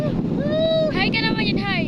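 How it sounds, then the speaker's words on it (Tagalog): Gusty wind buffeting the microphone at an outdoor spot in the Philippines, a steady low rushing roar while people talk over it. "Maganda pala dito kasi mahangin siya."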